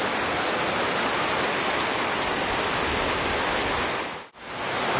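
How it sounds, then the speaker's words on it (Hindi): Heavy rain pours down during a ride on a national highway in Assam, a dense, even roar of rainfall close around, with one brief dip near the end. "बारिश दे रहा है यार, बारिश पूरा भीग गया यार, देख सकते हैं बारिश।"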